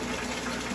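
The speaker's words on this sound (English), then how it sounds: "The float device will fill up as the water is filling up my tanks from the pumps." Water pouring from pumps into the tanks of a home fish room, a steady broadband rush and splash that runs unbroken and fairly close for the whole moment, with no talking over it.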